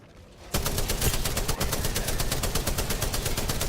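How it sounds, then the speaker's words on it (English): Rapid, dense gunfire and blasts fill a video game firefight after a quiet start, with a grenade explosion among the loud, sustained bursts that continue steadily to the end. "that's a grenade"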